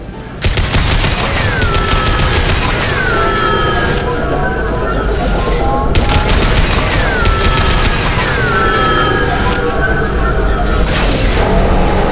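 Loud, sustained heavy weapons fire from the video game Mass Effect, with dense rapid bursts, sweeping tonal whines and impacts layered over a constant rumbling battle bed, continuous throughout.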